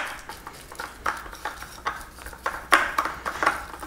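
Spoon scraping and clinking against a bowl while peanut butter and egg filling for peanut butter cups is blended, a steady run of soft knocks and taps with sharper clinks, close and alone.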